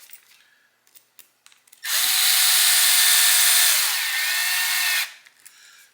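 A small power driver tightens a screw into a steering knuckle on a radio-control chassis, giving one loud, steady motor whir of about three seconds with a slight pitch shift near the end, after a few quiet handling clicks.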